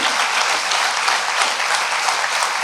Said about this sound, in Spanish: ¿Quién le da un fuerte aplauso al Señor?